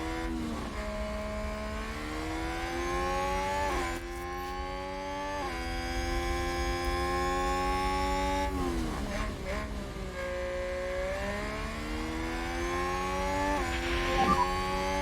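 Formula 1 cars racing in F1 Manager 2022, sustained engine whine with rising and falling pitch as gears shift, several cars overlapping at moderate loudness with no talk.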